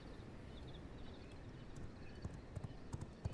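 A horse in V Rising clip-clops along in quick, regular hoofbeats, faint at first and growing sharper and louder toward the end, over a soft background hum.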